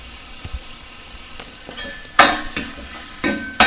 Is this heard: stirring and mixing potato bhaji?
yes